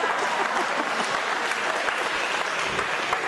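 Brief, full crowd applause at a wrestling event for a veteran wrestler called the Grappler, a dense, even roar of clapping hands from start to finish.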